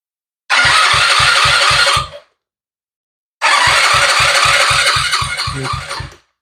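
A moped trike engine cranks over in two bursts after the key is turned, each a loud starter grind with a rapid even pulse that stops without catching, separated by a short silence.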